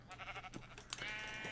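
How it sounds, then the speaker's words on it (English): Sheep bleating in the Minecraft video game, a short blocky in-game bleat over quiet background game sounds, with a brighter tone holding steady toward the end. "Hey sheep, quit running away."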